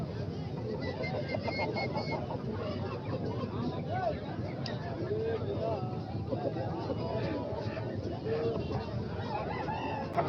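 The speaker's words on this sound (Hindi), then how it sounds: "मुर्गा देख लें माशाल्लाह से" An Aseel rooster at a poultry market in Tando Adam gives scattered clucks and calls beneath steady, busy conversation and crowd chatter.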